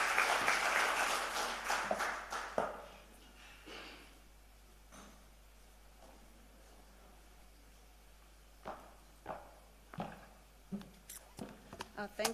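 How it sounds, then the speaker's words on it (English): Audience applause at an aviation authority event in April 2022, loud at first then dying away within a few seconds, followed by quiet room sound with scattered knocks and faint voices. "give a round of applause, Ms. Dikeledi Mzimba"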